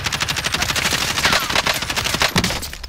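Rapid automatic gunfire rattles without pause in a video game shootout, loud and close, a continuous stream of sharp bursts with no talk over it.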